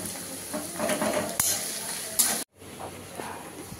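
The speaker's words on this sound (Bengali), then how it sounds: "এগুলো দিয়ে নিয়ে এখন সব পেঁয়াজটা দিয়ে এখন ভাজছি ভালো করে" Onions fry in a pan with a continuous sizzle, punctuated by clinks and scrapes of a spoon stirring against the pan, followed by a sudden brief gap and quieter sizzling afterward.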